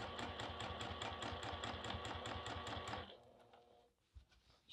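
A sewing machine with a walking foot stitches quilting fabric in a fast, even needle rhythm for about three seconds, then stops, leaving faint handling noise.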